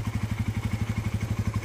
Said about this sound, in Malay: So kita dengar bunyi dia, motor yang agak lama lah kan